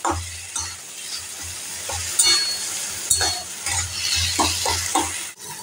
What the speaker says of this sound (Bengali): হাই ফ্লেম করে এটাকে এখন নাড়তে থাকবো।